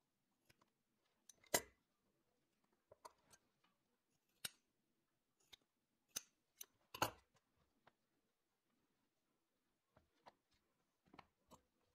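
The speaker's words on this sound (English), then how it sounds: "with a pair of scissors, we're going to cut these ends at an angle" Scissors snip through the ends of a foam-padded leather headcollar noseband, cutting them at an angle in a series of sharp, separate cuts with quiet pauses between, close and clear with no talking.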